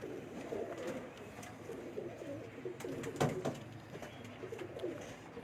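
A pigeon coos on a rooftop, with soft low rolling coos repeating steadily against outdoor background noise and a few faint bird chirps.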